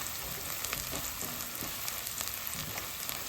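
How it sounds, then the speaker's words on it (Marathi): Onion and sandge fry in an oil tempering with a steady, even crackling sizzle that holds at a moderate level throughout, dotted with tiny pops and no voices. "कांदा फोडणीत टाकल्यानंतर कांदा थोडा गुलाबी झाला की सांडगे टाकते म्हणजे छान तेलावर परतले जातात"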